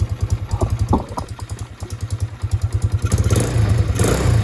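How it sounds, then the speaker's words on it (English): A carbureted motorcycle engine that had sat unused for months idles after restarting, a close, rhythmic pulsing putter that grows louder and busier near the end as it briefly revs, no talking. "it goes right back to idle"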